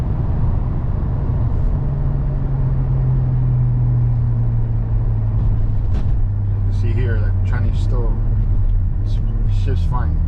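Lexus GS Turbo with a faulty transmission driving and shifting, a loud continuous engine and road rumble with a steady drone that drops in pitch as gears change, someone talking over it.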